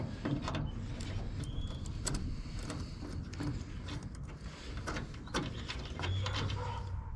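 Small T8 bolts being worked loose from the brake light of a 2005 Dodge Ram 1500, giving scattered close mechanical clicks and ratcheting ticks over a steady background hum.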